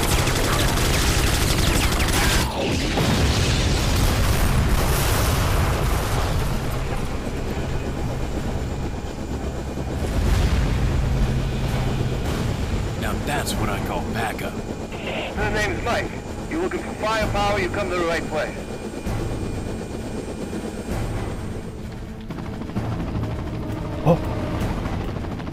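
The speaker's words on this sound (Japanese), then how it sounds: "なんでカプコンのヘリが戦ってんの" Combat in Resident Evil 4, with a helicopter fighting amid gunfire and explosions: dense, loud, continuous rumble and clatter with bursts of rapid fire throughout, while a person talks excitedly over it.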